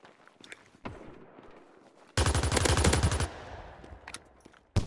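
A squad-built SMG fires a rapid, loud burst of about a second in the World War II shooter United 1944, framed by scattered distant shots and faint battlefield noise before and after.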